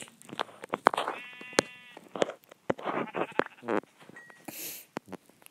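A sheep in the Minecraft video game gives a clear, wavering bleat, surrounded by sharp clicks and scattered in-game sound effects, with a brief hiss near the end.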